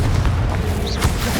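Bombarda and Confringo spells explode in the video game Hogwarts Legacy: a dense, loud stretch of deep booming blasts with a brief rising whoosh over it, and a voice calling out.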